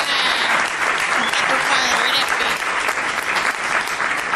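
Audience ovation for Gillespie, loud dense applause from a large crowd sustained throughout, with a voice briefly audible beneath the clapping.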